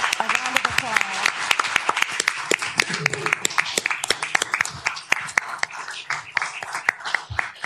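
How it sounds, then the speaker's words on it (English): Audience applause for police officers at a city council meeting, a steady crowd clapping with sharp individual claps throughout, loud and close, with faint voices murmuring underneath. "Let's give our officers a round of applause."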